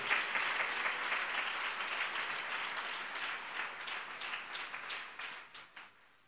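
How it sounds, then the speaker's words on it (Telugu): A church congregation at a Sunday worship service at Hosanna Mandir in Dowleswaram claps hands in praise, a steady wash of applause that thins toward the end into separate, sharper claps before dying away. "చప్పుడు కొడుతూ దేవునికి స్తోత్రం చెప్తాను"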